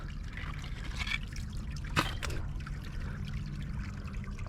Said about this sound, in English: But the water's flowing so heavy through it I can't see.